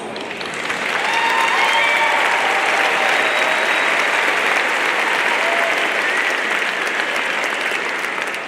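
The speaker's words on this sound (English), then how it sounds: "I think that itself deserves a round of applause" A graduation crowd at Normal Community High School breaks into loud, sustained applause that builds within the first second and stays dense and steady, with a few faint cheers mixed in.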